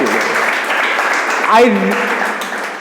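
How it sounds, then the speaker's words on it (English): An audience at a professional networking talk breaks into applause, a steady wash of clapping that fills the whole stretch, with a voice rising briefly over it near the middle. "a huge round of applause to my people, please"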